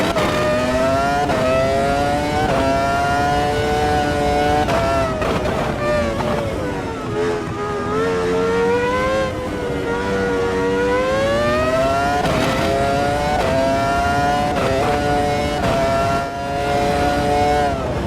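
A race car engine in the Automobilista 2 racing game, running on grooved tires with no speed limiter, revs loudly and continuously with rising and falling pitch sweeps, faint talk underneath.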